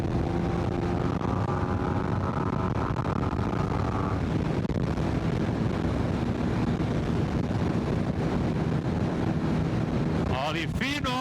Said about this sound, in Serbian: evo bije me već vetar.